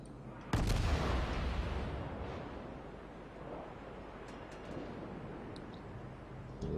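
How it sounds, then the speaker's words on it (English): Torpedoes launched from the Australian cruiser HMAS Perth in the naval combat game World of Warships: a sudden loud booming launch, then a long rumbling wash that slowly fades, with faint clanks near the end. "Now, blind fire a group of torpedoes over that way."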